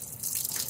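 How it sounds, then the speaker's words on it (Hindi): Water gushing and splashing out of an Ashok Leyland H-Series six-cylinder truck engine where oil should drain, a brief close, bright trickling rush. "इंजन ऑयल की जगह पानी निकल रहा है।"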